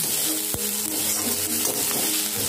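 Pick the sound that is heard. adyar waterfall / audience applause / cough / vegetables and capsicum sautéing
vegetables and capsicum sautéing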